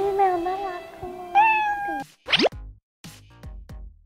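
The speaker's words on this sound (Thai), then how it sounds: "แมวน่ารัก" A cat gives two long, drawn-out meows close by, followed by a few brief plopping and boing-like knocks and short thuds, with no talking over it.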